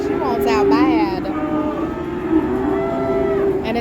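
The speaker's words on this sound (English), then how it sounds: "A lot of cows back there." Cattle at a cow sale moo repeatedly from pens close by, with long rising and falling calls overlapping one another above a constant crowded barn din.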